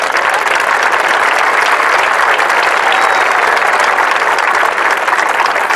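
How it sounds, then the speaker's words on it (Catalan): A large audience at a unity rally in Vic for a referendum breaks into loud, sustained applause, a dense wash of clapping close and constant throughout, with no speech over it. "Per tant, un altre aplaudiment per ells."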